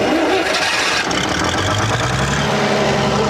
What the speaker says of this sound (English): It's a Leyland engine and it's a British generator unit as well.